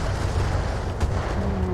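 Weapons fire at a vehicle in the BattleTech game, a dense rumbling barrage of booms with one sharper crack midway, loud and continuous.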